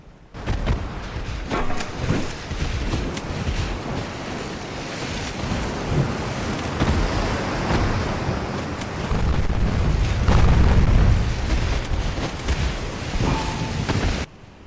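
Eight-inch naval guns fire in Ultimate Admiral Dreadnoughts. Dull, heavy booms roll over a constant rush of sea and wind, with the loudest low rumble swelling near the end.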